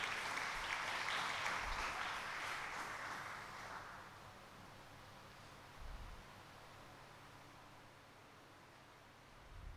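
A church congregation applauds the Lord during a Spanish-language sermon, a dense burst of clapping that fades away over several seconds into quiet room noise.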